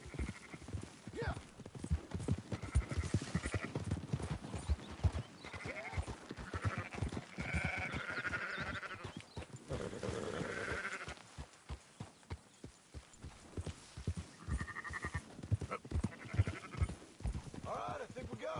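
Sheep bleat in Red Dead Redemption 2, recurring bursts amid hoof clip-clop and horse sounds, with people talking over much of it.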